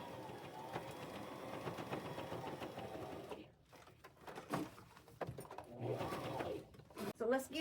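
A sewing machine runs while Velcro is stitched onto walker pieces, whirring in uneven stretches that stop and start, faint and close, with a voice talking over parts of it.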